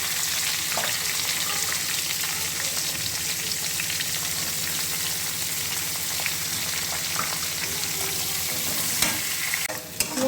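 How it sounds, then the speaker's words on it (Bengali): Onions fry in a pan with bay leaves, giving a dense, continuous crackling sizzle close by, with faint stirring clinks near the end and no talk. "পেঁয়াজটা ভাজা হয়ে গেছে"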